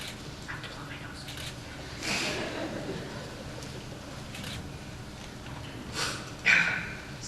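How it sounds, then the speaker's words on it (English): A woman blows her nose while giving a memorial tribute, producing a couple of short, breathy, close-up blasts that stand out over low room tone. "I have to blow my nose."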